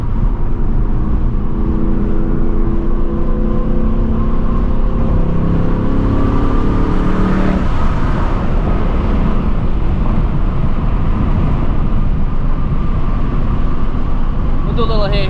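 A 2024 Ford Mustang GT accelerating hard in second gear, its engine droning loudly and rising in pitch before a shift point, then a continuous road and cabin roar, heard from inside the car.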